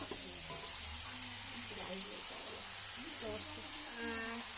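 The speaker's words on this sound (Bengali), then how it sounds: "এই যে বোন রান্না করছে।" Food frying in a pan at home, a steady soft sizzle and hiss running throughout, with voices talking in the background.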